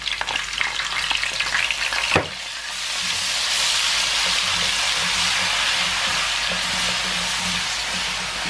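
Cumin, cloves and cinnamon sizzling in hot oil for an aloo phali sabzi, a sharp clatter as the spices drop in, then a loud, steady close frying hiss that carries on without speech.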